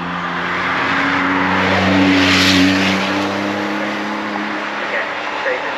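A yellow supercar at a Gumball 3000 hill climb event at Shelsley Walsh, its engine droning loud and steady with a brief swell of revs, heard close over several seconds with outdoor crowd noise.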